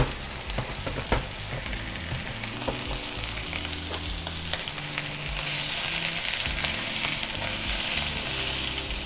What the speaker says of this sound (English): make sure your pan is absolutely red hot, and now it's ready for those fillet steaks